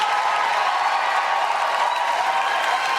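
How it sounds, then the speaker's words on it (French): A studio audience on the Quebec reality show Loft Story applauds Bob with dense, steady clapping that fills the whole moment at an even level, with no voices standing out. "On applaudit chaleureusement Bob!"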